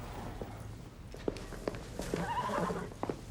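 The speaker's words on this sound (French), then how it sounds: "Il est splendide ce cheval" A thoroughbred horse named Cobalt at a stable gives a short whinny amid a few scattered hoof clops and shuffling steps, fairly close, with faint background noise.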